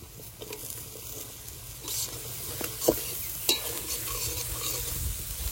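Green chillies frying in a pan for chicken do pyaza while being stirred, a steady soft sizzle under scraping spatula strokes and occasional light taps against the pan, close-up.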